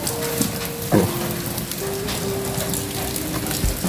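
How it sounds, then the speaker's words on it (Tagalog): Dense, hissing rain falling on a surface, steady throughout, with a faint tonal hum and a couple of brief knocks. "Kita nyo naman ang ulan."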